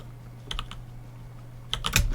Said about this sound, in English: But that's why my keyboard is so loud.